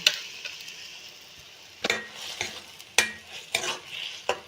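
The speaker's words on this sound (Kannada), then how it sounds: "ಹಸಿಮೆಣಸು ಶುಂಠಿ ಬೆಳ್ಳುಳ್ಳಿ ಅದನ್ನು ಹಾಕ್ತಾ ಇದ್ದೇನೆ ಒಂದೆರಡು ನಿಮಿಷ ಬೇಯಬೇಕು ಅದು ಅಂದರೆ ಸ್ವಲ್ಪ ಫ್ರೈ ಮಾಡಬೇಕು" Ground green chili, ginger and garlic fry in a pan with a soft steady sizzle. A spoon scrapes and stirs through it in several sharp clanks, close by, and no one speaks.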